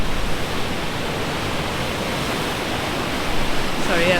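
Ocean surf rolling in at Imsouane beach in Morocco, a steady broadband wash of breaking water that swells slightly louder near the end, with no voices over it.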